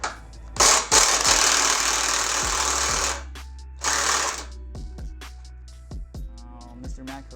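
A Matco power ratchet buzzes loudly in long bursts on 10 millimeter nuts near a Hyundai Veloster Turbo horn bracket, then stutters into short weak pulses as it dies.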